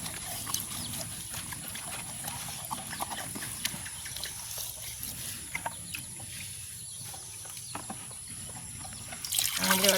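Turmeric-coated pond fish being washed with water, an irregular close splashing and trickling with light handling noises, fairly steady throughout and rising slightly at the end.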